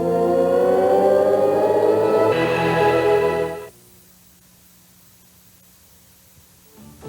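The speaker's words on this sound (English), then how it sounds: "We have a sound card and hear the Warp welcome sound." OS/2 Warp welcome sound at computer startup through a sound card: a loud, rich swelling synthesized chord with a hissy rising sweep that cuts off abruptly after a few seconds, followed by near silence with a faint low hum.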